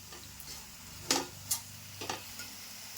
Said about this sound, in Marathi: 1 चमचा किचन किंग मसाला घेतला आहे, तो सुद्धा टाकून घेते आणि व्यवस्थित ढवळून घेते.